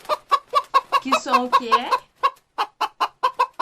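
A chicken clucks in a rapid, steady series of short, close pulses, with a brief spoken question partway through.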